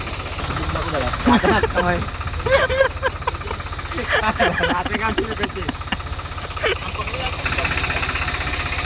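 A tractor's engine idles with a steady low rumble while it helps pull out a stuck car, running continuously under close talk from people nearby.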